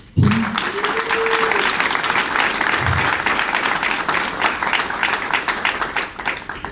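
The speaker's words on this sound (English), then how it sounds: "let's begin by giving a warm round of applause to our generous host" Loud, sustained applause from a large crowd, dense clapping that carries on throughout.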